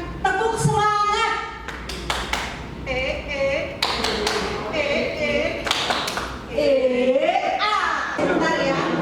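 A group of children does a rhythmic spirit clap at a school program event. Bursts of sharp, loud claps come in patterned rounds between lively voices and chanting.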